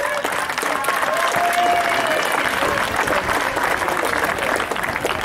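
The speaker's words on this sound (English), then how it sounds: "a big round of applause for him" An audience at a Lawrence School Sanawar cycling event claps for a guest, a senior advocate, in a full, continuous round of applause that holds steady throughout with a faint tonal whistle briefly riding above it.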